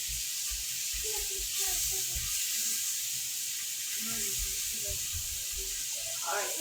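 Crispy bacon frying in a pan in a home kitchen, a steady broadband sizzle and hiss running throughout, with voices talking over it.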